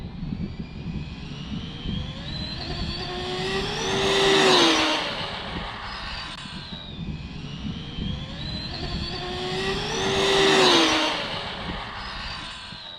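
An Arrma Limitless RC car on an XLX ESC with a TP 4070 can motor makes two high-speed passes, each a rising then falling whine that sweeps by loudly and fades.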